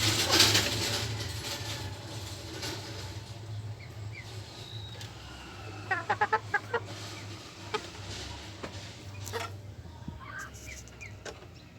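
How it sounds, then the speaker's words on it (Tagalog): Two backyard chickens let out of their coop cluck softly, with a short run of sharper, louder clucks midway through, over low outdoor background noise. "nilabas natin yung dalawang manok"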